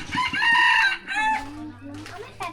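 A decoy rooster in a rural village crows loudly and close, one drawn-out cock-a-doodle-doo followed by shorter clucking calls, with faint talk underneath.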